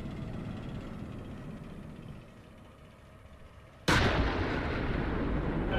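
A sudden loud blast of tank gunfire in the Steel Beasts Pro tank simulator, cutting in abruptly after a stretch of low rumbling engine noise and holding a sustained roar to the end.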